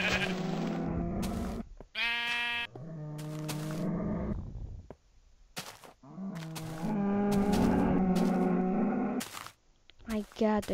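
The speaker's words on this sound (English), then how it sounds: "Sheep." Sheep in a video game bleat loudly and close, in several drawn-out, wavering calls with brief gaps between them.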